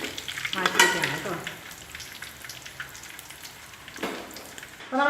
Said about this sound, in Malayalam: തിരിച്ചു മറിച്ചിട്ട് നല്ല പോലെ ഒന്ന് വറുത്തെടുക്കണം.